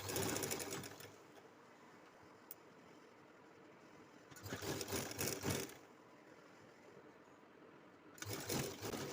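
A sewing machine stitches a kurti panel in three runs of a second or more each, the running whir set over a steady background hum, with a sharp tick in between.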